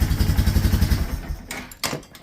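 A Yamaha Bear Tracker ATV engine, just fixed at the carburetor but with the choke off, chugs in a loud, uneven rhythm, then stutters and dies, leaving a few metallic clatters.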